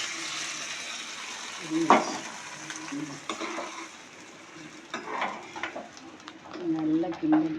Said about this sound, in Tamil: நல்லா கிண்டணும்